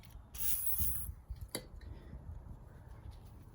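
Spray lubricant hisses in a short burst of just under a second onto the bushing of a Suzuki SV1000N motorcycle foot peg. Faint clicks and handling noises follow close by.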